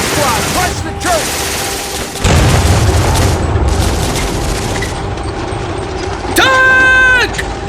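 In an animated war scene, a tank shell blasts a hole in a building, heavy booms and bursts of rapid gunfire mixed with shouting voices and whistling, falling tones, loud and close.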